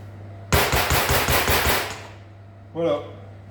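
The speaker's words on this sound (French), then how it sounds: "Vous voyez, vous l'entendez, hein. Avec le batteur, ça va très vite." An electric hand mixer whirs loudly as it beats a mousse, a buzzing, pulsing run of about a second and a half, then stops, followed by a brief voice.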